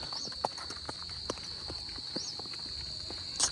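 Horse hooves clip-clop on hard ground at a horse gathering, with faint, unevenly spaced steps over a steady high whine and a slightly louder knock near the end.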